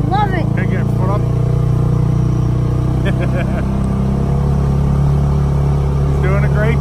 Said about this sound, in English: Riding my new Polaris, and this is my fourth lap